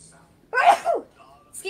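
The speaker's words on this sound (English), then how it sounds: "I gotta sneeze" A single sharp human sneeze, close and loud, bursting out of a quiet room with a short trailing breath afterward.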